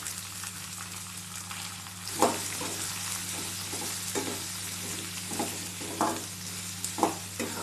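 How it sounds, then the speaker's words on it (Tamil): Finely chopped onions being sautéed for moringa leaf dosa, a steady sizzle in the pan with several sharp stirring scrapes spaced through it, close and moderately loud, with no voices. "அதையும் ஆட் பண்ணி நல்லா வதக்கிக்கலாம்."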